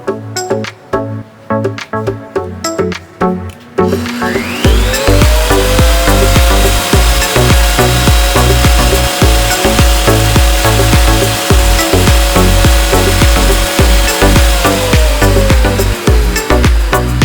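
Lotus LT2000TPX thickness planer running, a loud steady motor whine that spins up after a few seconds of background music and holds at full speed, with rhythmic music continuing underneath.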